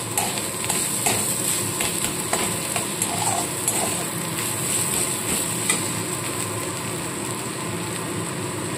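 Shredded cabbage is stirred with a thin gram flour batter in a frying pan, giving a steady sizzle with scraping stir strokes close up, with no talking.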